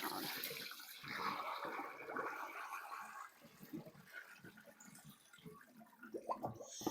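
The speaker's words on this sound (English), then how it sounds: "I'm going to pour off the water while holding the lettuce down" Water is poured off lettuce held down in a kitchen sink, a soft splashing and trickling that runs on quietly for several seconds with small gurgles.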